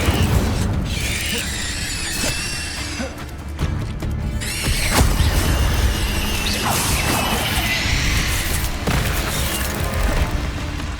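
Incendio fire spell cast in the Hogwarts Legacy video game, a loud dense burst of whooshing flame, booms and crashing impacts over a steady roar of combat effects, with no voices heard.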